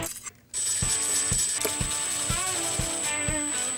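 Ratchet runs in Wilwood brake caliper bolts with a quick, steady series of close, crisp clicks over about three seconds.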